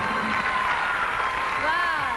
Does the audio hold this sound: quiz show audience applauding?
yes